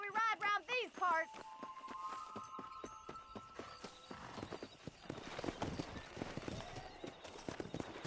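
A horse breaks into a gallop in Red Dead Redemption, hooves drumming in a fast, steady clip-clop that carries on close by after a burst of music, with faint voices in the background.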